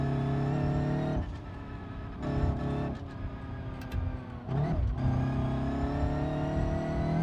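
Car engine in BeamNG.drive with a Lightning McQueen mod, a steady harmonic drone that dips and rises as the car eases off and accelerates through turns, close and continuous.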